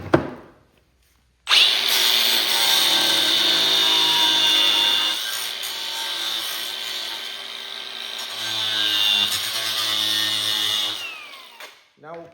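A power tool cuts into a plastic Cub Cadet Cyclops front nose piece, starting abruptly with a loud, high whining buzz that runs for about ten seconds before spinning down, followed by brief speech.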